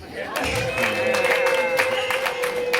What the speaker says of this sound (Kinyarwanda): sinzi niba muri kumva icyo kintu mwakomye amashyi